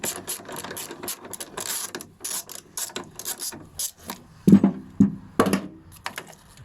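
A ratchet undoes a 10mm nut bolt inside a Citroen ZX interior, making a run of close, crisp ratcheting clicks in uneven bursts with a few heavier knocks near the end. No talk is heard.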